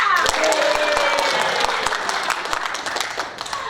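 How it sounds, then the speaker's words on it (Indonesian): Steady audience applause at a CIO leadership talk show, dense clapping throughout with many sharp individual claps close by. "Berikan aplaus buat kita semua"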